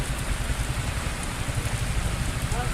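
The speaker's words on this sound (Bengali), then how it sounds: "তুফান বৃষ্টি।" Heavy storm rain pours steadily at a riverside boat ghat on the Shitalakshya River, a dense continuous hiss that stays loud and even throughout with low rumbling underneath.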